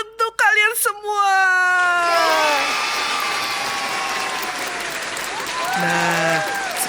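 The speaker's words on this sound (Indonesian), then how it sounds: "Tepuk tangan untuk kalian semua." A crowd bursts into applause for children's musical performers after a short sung or voiced tone, the clapping loud and sustained, with a voice briefly heard again near the end.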